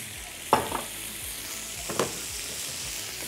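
Chicken breast frying in oil in a pan, a steady close sizzle with two sharp clatters as pieces are stirred or flipped, no speech.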